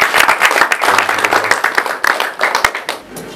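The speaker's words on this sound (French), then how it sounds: "vous pouvez l'applaudir." At a public thesis defense at a university, a small audience claps loudly and close by for a professor. The claps are distinct and uneven, with a brief murmur of voices underneath, and they thin out near the end.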